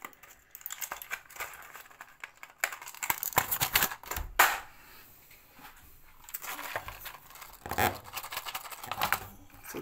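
A plastic bottle of 30 Oxyprolane capsules being opened by hand, with close clicks, crinkles and rattling taps coming in irregular bursts.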